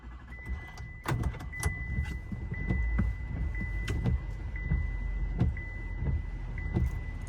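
A pickup truck creeps forward a few feet at a storm-watching spot, its engine and tyre rumble low and steady, with scattered soft knocks and clunks along with a faint steady high whine throughout.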